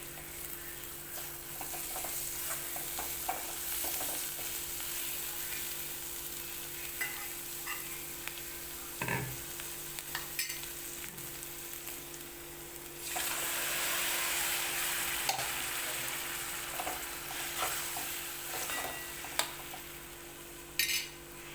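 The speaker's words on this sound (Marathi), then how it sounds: "तेल सुटेपर्यंत आता मसाला सगळा भाजून घेतला मी" Spice masala for a cowpea curry fries in hot oil, a close continuous sizzle with occasional spatula clinks and stirring, swelling louder partway through, no one speaking.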